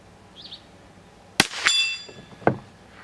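A Ruger rifle shot strikes a steel target on a single-shot tray, giving a sharp crack followed by a bright metallic clang that rings briefly, then a second, fainter impact moment later.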